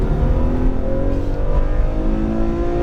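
A Ferrari F12 Berlinetta engine pulls hard on a racetrack, its loud, steady roar climbing gradually in pitch as the car accelerates, heard from inside the car with no talking.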